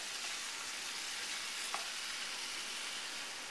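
Vegetables frying in a pot on medium heat, softening: a dense, even sizzle runs throughout with one small pop midway, quiet and close, with no voices.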